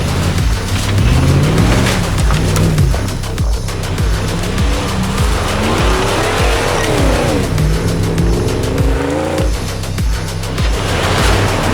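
A Mercedes G63 AMG drives hard with a loud, close engine roar under long, wavering tire squeals that rise and fall across the run, with no talking.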